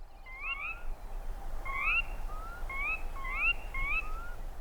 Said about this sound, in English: It's the symphony of birdsong heard at daybreak from spring to midsummer.